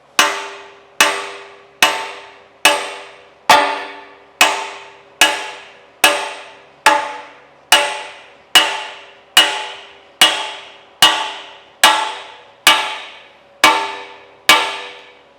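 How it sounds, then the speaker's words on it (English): Seventeen evenly spaced hammer blows drive a wedge into the large drive gear of a restored cane mill, each ringing metallic strike decaying before the next, close and loud with no voices. "we're ready to drive our wedge in here"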